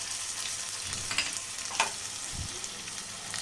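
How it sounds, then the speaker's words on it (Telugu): Sliced onions with ginger garlic paste sizzle and fry steadily in a pan for bagara rice, with a couple of brief stirring scrapes near the start and middle, no voices. "ఉల్లిపాయ ముక్కలు కొంచెం వేగిన తర్వాత అల్లం వెల్లుల్లి పేస్ట్ వేసుకోవాలి"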